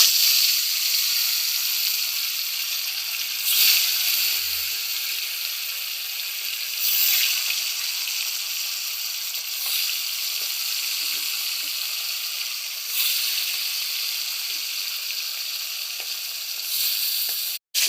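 Snakehead fish fry in salted oil in a wok, giving a loud, continuous close-up sizzle that swells slightly every few seconds.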